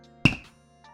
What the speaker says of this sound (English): Yes, I got a rubber mallet.